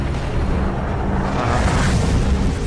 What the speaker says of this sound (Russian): И поражаем врагов волной атаки